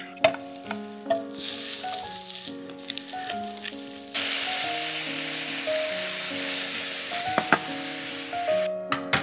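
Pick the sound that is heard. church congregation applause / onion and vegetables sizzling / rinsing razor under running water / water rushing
onion and vegetables sizzling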